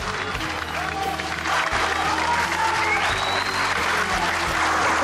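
Audience applause from a crowd at a televised performance, a dense sustained clapping that swells slightly louder partway through, with voices and faint music underneath.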